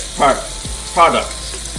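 Breakfast potatoes fry in a pan with a low, steady sizzle while a voice speaks briefly over it, plus a soft thump in between.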